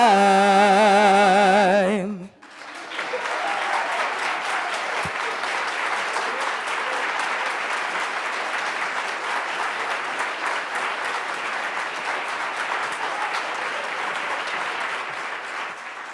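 After a brief tonal sound at the start, a long, steady round of audience applause fills a community breakfast gathering, dense clapping from many people sustained evenly at moderate volume.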